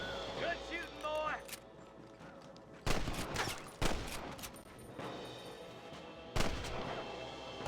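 Gunfire in the Red Dead Redemption video game, with several loud sharp bursts standing out over a busy bed of game sound and voices.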